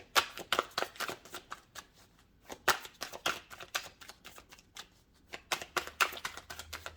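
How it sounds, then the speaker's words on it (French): A deck of tarot cards is shuffled by hand in quick, crisp riffling bursts that pause briefly midway and then resume, close and fairly soft, with no talking. "je bats le jeu et on voit les cartes qui veulent bien s'exprimer"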